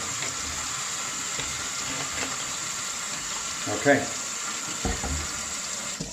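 A kitchen tap runs into a sink while chemical mixing equipment for a Kodak Flexicolor C-41 film developer is rinsed, an even splashing stream with a few clatters and a brief spoken word over it.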